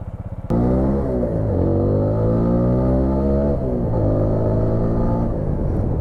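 A TVS Apache RTR 160 4V motorcycle pulls away after idling, its single-cylinder engine droning steadily as it rides, pitch rising and dipping through gear changes, close and continuous with no talk.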